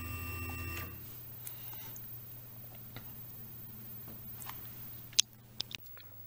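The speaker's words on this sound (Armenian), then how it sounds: "սեղմում ենք միացնել և սկսում աշխատանքը հաստոցին" CNC router machine running its job, a low steady motor hum with faint clicks and a few sharp ticks from the cutting work near the end, moderately quiet with no talk.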